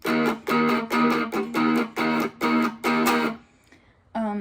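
Seven strummed, distorted guitar chords in a steady rhythm, each cut short by muting, followed by a brief pause and one more chord.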